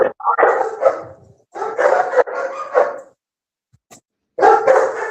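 A small rescue dog barks in short bursts, close and loud, with several yaps in a row, a pause, then more barking.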